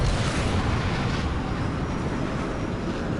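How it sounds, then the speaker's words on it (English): A heavy airstrike explosion in GRAW2 rolls out as a dense, loud, low rumble that sustains without a break for a few seconds. "airstrike on the way"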